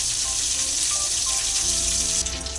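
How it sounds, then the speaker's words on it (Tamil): Oil left over from frying chicken pours into a kadai in a home kitchen, giving a steady, close liquid gush that lasts the whole moment, with no voices. "இப்போ சிக்கன் பொரிச்ச எண்ணெயை நம்ம ஊற்றிக்கலாம்."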